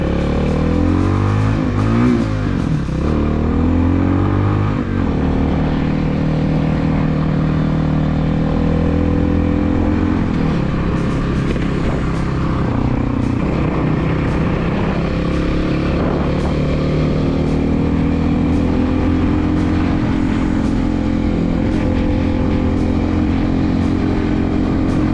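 A cheap new 250cc motorcycle roars loudly throughout while being ridden, the engine revving and climbing through gears with rising and falling pitch under constant wind and road noise.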